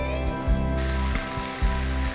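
Veal saltimbocca with cured ham sizzles steadily in a pan of butter, a dense close frying hiss with a few soft thumps and pan knocks, no voices.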